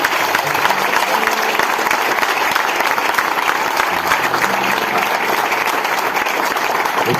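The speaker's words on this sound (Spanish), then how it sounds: "Denle fuerte el aplauso al Señor" Worshippers in a church give the Lord a strong round of applause, a sustained, even roar of many clapping hands with faint voices and low murmurs underneath.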